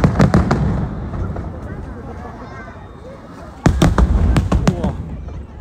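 Fireworks burst over a crowded Jiayuguan night scene, two sharp clusters of loud cracking pops separated by a long rumbling roar, with crowd noise underneath throughout.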